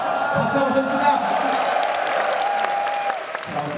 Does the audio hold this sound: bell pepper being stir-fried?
no